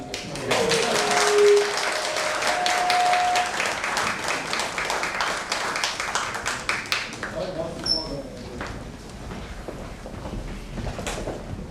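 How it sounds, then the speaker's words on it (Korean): Applause breaks out at a business forum after a group photo, with dense clapping at first that thins into scattered claps. Voices and some clattering mix in underneath. "박수 한번 쳐주세요."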